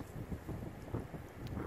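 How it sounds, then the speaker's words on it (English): Wind blows across an outdoor metal-detecting dig site, a low, gusty rumble pressing on the microphone in uneven swells, with no talking. "It's so windy."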